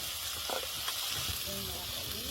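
Garlic, ginger and chilli pastes, chopped tomato and cumin powder fry in a pan for chana masala with goat fat, making a constant close sizzle with a voice faintly heard over it.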